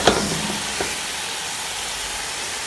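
Chicken for baked chicken sizzles in a pan just after being flipped: a brief clatter at the start, then a continuous, even frying hiss that stays loud throughout.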